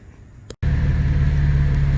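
A 2020 Nissan 370Z Nismo with aftermarket intakes idles after a brief cutout, then settles into a steady, loud low engine drone close by, with no one speaking.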